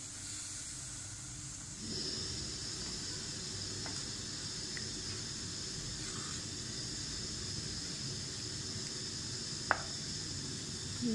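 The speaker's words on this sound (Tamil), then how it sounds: "இந்த மசாலாவோட ரா ஸ்மெல் போகிற வரைக்கும் கொதிக்கலாம்." A masala curry with chilli and coriander powder simmers in a pan, giving a soft, steady hiss and faint bubbling that rises slightly after the first two seconds, with an occasional light clink.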